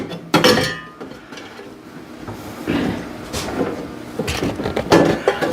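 Bread pan being seated and twisted into place inside a Vevor bread maker, heard as close metallic clinks and clunks with scraping between them, irregular and moderately loud, with no voices.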